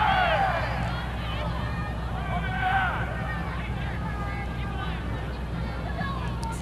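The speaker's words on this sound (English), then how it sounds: "Sounds like crowd's getting riled up." Crowd noise at a cold outdoor girls soccer game between Totino-Grace and Spring Lake Park, a steady hubbub of many voices with a few louder cheering shouts early on, continuing under the general din.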